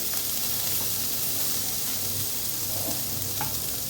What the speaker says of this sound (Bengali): কেটে রাখা কোরিয়েন্ডার লিভস এর মধ্যে দিয়ে মশলাটাকে আরেকবার একটু ভালো করে ফ্রাই করে নেব